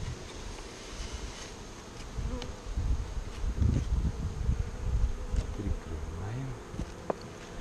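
Honeybees hum around a nucleus hive during a queen check, a steady insect drone with the rise and fall of individual bees flying close, a few louder passes near the microphone.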